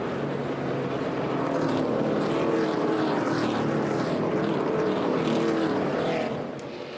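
NASCAR stock cars roar down pit road at the Brickyard, a dense sustained engine drone building and holding loud for several seconds before easing slightly at the end, with no talk.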